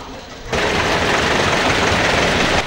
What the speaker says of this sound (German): Nach der Zeremonie des Startens entschwand das Oldsmobil in gemächlichem Tempo.